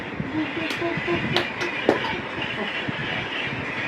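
A train rumbles along the tracks with a steady clatter and a few sharp metallic clanks, loud and close.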